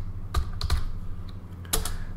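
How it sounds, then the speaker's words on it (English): Typing on a computer keyboard while entering a command at a simulation prompt: a few separate clusters of key clicks over about two seconds, close and fairly quiet over a low steady hum, with no talking. "I will type alter"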